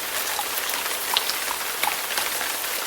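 Rain falling on a surface makes a steady, dense hiss with a few sharper drops standing out, sounding like a sound effect played in a children's English lesson, with no voices over it.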